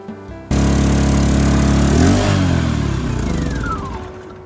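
An EENOUR GS900i-B portable generator engine roars loudly and steadily under heavy electrical load after a sudden start, with a rough, motorbike-like rumble that gradually eases.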